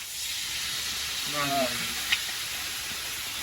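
Water splashes into a pan of fried chicken, bringing a steady, hissing sizzle that runs throughout under a brief murmur of a voice, with one small pop near the end.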